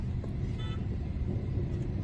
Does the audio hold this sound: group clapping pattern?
no